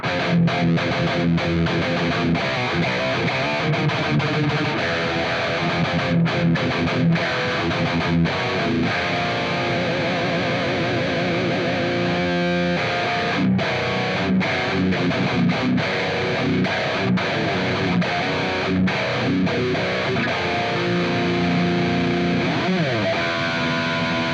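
Heavily distorted Jackson Pro Plus electric guitar with a Duncan distortion bridge pickup plays continuously, loud and close, with sustained chords and fast riffs throughout and no talking.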